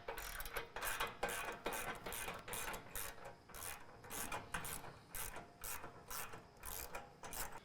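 A hand ratchet clicks steadily as it backs 19mm bolts out of the fuel tank skid plate under a 2017 Ford Powerstroke 6.7L crew cab truck, with repeated close, rhythmic ratcheting strokes and no talk.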